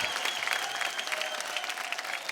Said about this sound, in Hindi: जोरदार तालियां, इनका उत्तर सही है।